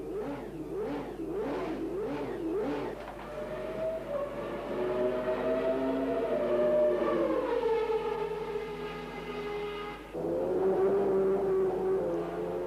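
A 1990 McLaren F1 car running a new Honda engine at a Silverstone test session, its high-pitched engine note sweeping up and down through gear changes as it passes, loud and continuous, with a brief dip near the end before revving again.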